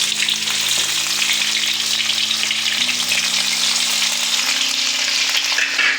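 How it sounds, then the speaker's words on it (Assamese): Mixed vegetables sizzle in hot mustard oil with a loud, dense, steady hiss and frequent small crackles, close by and continuous with no voices. "তেল গৰম হৈ গৈছে, মই চব্জিখিনি অলপ অলপকৈ ভাজি ল'ম।"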